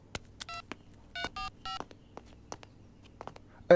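Telephone being dialed: a quick series of distinct touch-tone DTMF beeps, each short and clear, spaced irregularly over a few seconds against a quiet background with small clicks and no talk.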